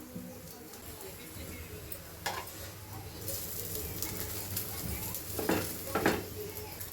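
A cauliflower paratha cooks in oil on a griddle, giving a soft, steady sizzle with occasional scraping and pressing sounds and a couple of louder bursts near the end.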